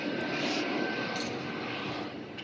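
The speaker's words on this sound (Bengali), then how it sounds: "যেহেতু পাশেই আসলে এয়ারপোর্ট, এই জন্য মানে" A fixed-wing airplane flies low over a home beside an airport, its engine roar loud and steady before easing slightly near the end, with no talking.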